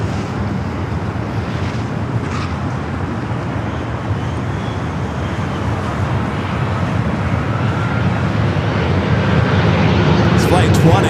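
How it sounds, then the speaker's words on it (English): An Air France Boeing 777-300 from Paris touches down on runway 25 left at LAX, its engine roar steady and rising slightly toward the end amid microphone wind noise, with faint voices underneath. "Flight touching down there on the south side at 25 left"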